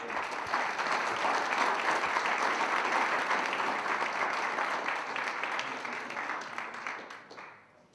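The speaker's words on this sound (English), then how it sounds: "a brief applause before we continue." Audience applauding at the end of a lecture on the Middle East, a dense, steady roar of many hands that holds evenly and then fades out over the last second.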